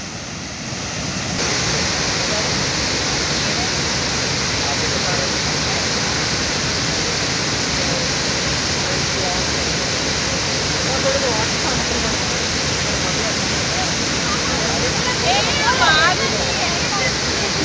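Chitrakuta waterfall in Chhattisgarh roars as a steady, loud, broadband rush of falling water, continuous and unchanging throughout, with faint voices occasionally audible beneath it.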